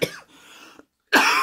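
A person gives a single short cough, then a quieter throat rasp and a pause, followed by another louder, harsher cough, all close up with no talk.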